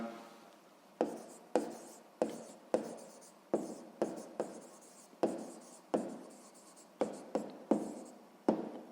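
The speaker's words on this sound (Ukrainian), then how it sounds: "Отже, ми знаємо, яка довжина, записуємо відповідь." Someone is handwriting a math answer on paper. Crisp, close strokes and taps come in an irregular rhythm of about a dozen quick marks, with no talk.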